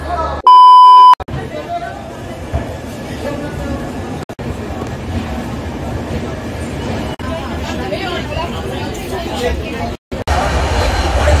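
Padatik Express train at Sealdah station, with a steady rumble of rail noise and crowd babble, a loud electronic beep early on and someone talking close over the din.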